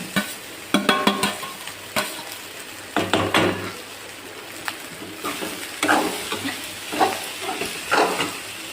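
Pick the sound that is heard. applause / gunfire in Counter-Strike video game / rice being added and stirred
rice being added and stirred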